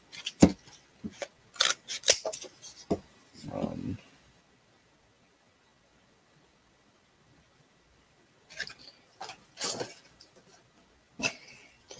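Scissors snip material for a model tugboat in a run of sharp, close cuts, a pause, then more clipped snips.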